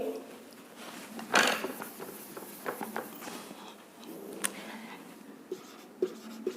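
Marker or chalk strokes on a classroom board while writing out linear equations, a series of short scratchy taps and squeaks at close range with pauses between strokes.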